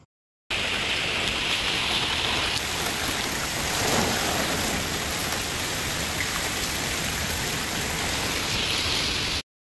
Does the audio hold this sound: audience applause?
no